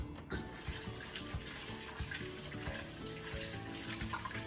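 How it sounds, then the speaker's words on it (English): A kitchen faucet runs steadily while hands are washed under it, a close, fairly quiet splashing stream with small irregular splatters and no speech. "Let me wash my hands."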